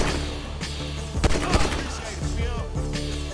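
Gunfire in the video game GTA 5, a dense run of shots and thumps with a few sharp louder bursts over a busy game mix, with character voices talking over the action.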